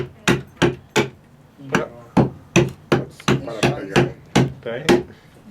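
Repeated sharp hammer blows on a hard surface, about a dozen evenly spaced strikes that speed up slightly toward the end, loud and close with no talk.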